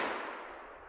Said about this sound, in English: let's try our 22 mag now